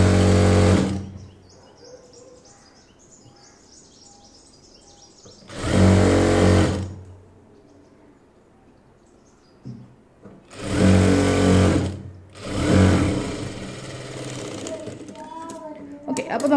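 A sewing machine stitching the side seam of a churidar top in four loud, close bursts separated by quiet pauses, with faint speech and small handling noises in between.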